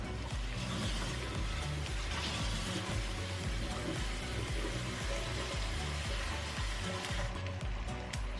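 Fresh tap water pours continuously into a cooking pot in a home kitchen, a steady, close, rushing splash that runs throughout with no talking.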